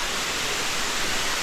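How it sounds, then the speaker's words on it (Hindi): Tall waterfall at Rock Garden in Chandigarh, pouring from a great height: a steady, dense broadband rush of falling water, close and continuous with no breaks. "ऊपर वाटरफॉल काफ़ी ऊंचाई से गिर रहा है"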